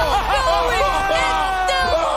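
Spectators at a Street Fighter 6 tournament create a loud, lively hubbub, with many overlapping shouting and cheering voices rising and falling over a dense crowd roar.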